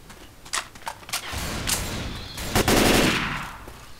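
Shotgun blasts in Left 4 Dead 2, several sharp shots spaced irregularly over a few seconds, close and punchy, with a rumbling burst of game action in the middle.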